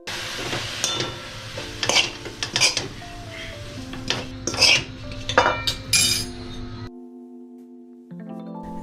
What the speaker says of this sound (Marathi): मिश्रणाला छान हलवून घेतोय